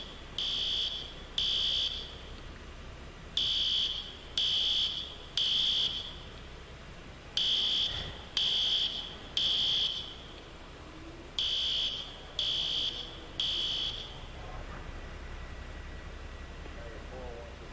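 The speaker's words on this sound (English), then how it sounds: "I don't know what's causing the fire alarm to go off in this place" A fire alarm going off in a building in the EmergeNYC video game, sounding as loud, shrill beeps in repeated groups of three over a steady background hum, then falling silent near the end.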